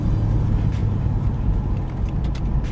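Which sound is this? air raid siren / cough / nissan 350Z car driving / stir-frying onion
nissan 350Z car driving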